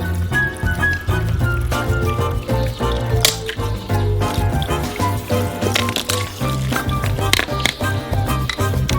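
Beer from a can poured into a metal baking tray gives a close, irregular run of splashes, gurgles and drips over several seconds, with music-like tonal sound underneath.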